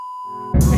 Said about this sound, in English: I'm gonna beep it out on video